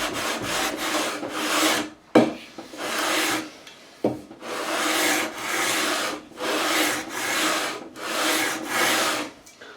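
80 grit sandpaper is rubbed hard along the fretboard of a 1973 Gibson Les Paul Custom with a twisted neck, making loud, close, rhythmic rasping strokes back and forth, each lasting about a second, with brief pauses between sets.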